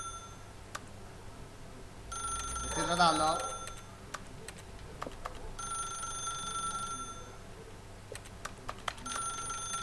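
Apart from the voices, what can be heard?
telephone ringing in video game The Stanley Parable: Ultra Deluxe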